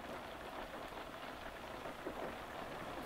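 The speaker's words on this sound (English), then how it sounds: "rain now lashing against the window" Rain lashes against a train window on a gloomy day, a dense, even patter of drops on glass that stays steady throughout and plays alone without voices.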